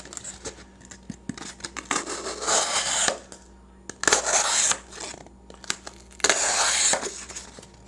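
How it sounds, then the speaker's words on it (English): A Ganzo F7562 folding knife slices through cardboard in several bursts of close, scratchy cutting with brief pauses between strokes. "it slices cardboard very well"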